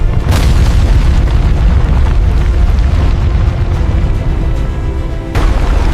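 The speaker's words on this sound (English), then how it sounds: "The sound of a cataclysmic collapse." A loud, sustained rumbling roar of a bunker collapsing, heavy debris crashing down, dense low-end thunder with crackling bursts throughout and no pauses.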